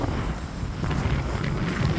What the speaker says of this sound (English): And it is quite windy, there's a northerly wind, so the sea's quite calm.